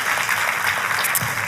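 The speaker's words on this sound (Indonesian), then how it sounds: "Boleh sekali lagi tepuk tangannya yang lebih meriah lagi buat Yesus Tuhan kita." A church congregation applauds for Jesus, with dense, sustained clapping from many hands filling the room. The sound is loud and even throughout.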